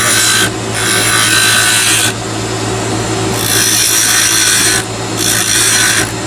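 A wood lathe turns a chess king piece while a chisel takes down its circumference, giving loud, steady broadband shaving and rasping in several bursts over a constant motor hum, with no talk.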